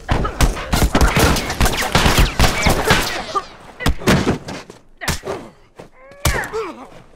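Rapid gunfire from The Last of Us Remastered, a loud dense fusillade of close shots and thuds that thins into scattered single bursts, with a shout and groan-like voices breaking through near the end.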